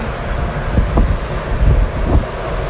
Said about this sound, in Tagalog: Oh, lamig, mahangin kasi kaya malamig.